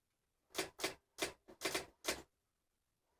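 A manual typewriter is typed on in a quiet room, giving about seven crisp, separate key strikes in quick, uneven succession with short pauses between them, then one more strike at the very end.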